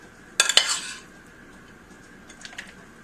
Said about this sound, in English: Just going to scoop my rice in. I'm going to scoop half of it in.